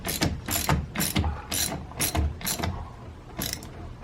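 A ratchet clicks in quick bursts while tightening an 8mm nut on the steering wheel of a Saab 9-3, giving about seven close, sharp ratcheting strokes in a steady rhythm with no talk.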